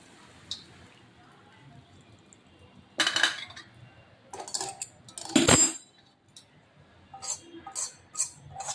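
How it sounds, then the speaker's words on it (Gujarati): A spoon mixes lemon rice in a dish, making scattered clinks and scrapes against the dish, sparse and fairly close in an otherwise quiet room. "ધીમે ધીમે આપણે ચમચાથી પહેલાં મિક્સ કરશું."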